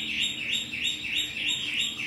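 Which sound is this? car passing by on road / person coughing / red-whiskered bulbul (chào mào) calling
red-whiskered bulbul (chào mào) calling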